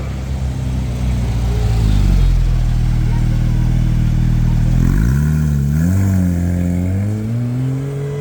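A Porsche 911 GT3 RS of the 991 phase 1 generation arrives on a street in Cannes, its engine note steady and close, then climbing and wavering as it blips and revs near the end.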